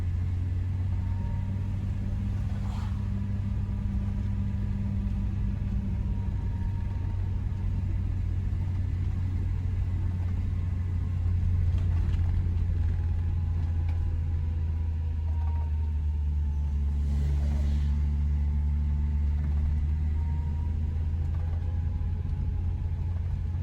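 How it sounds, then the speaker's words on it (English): A Vauxhall Velox's big six-cylinder engine lumbers uphill in second gear, a steady low rumble heard from inside the car, moderately quiet and unbroken, with no one talking. "The big 6-cylinder engine, it'll just lumber up, I would think."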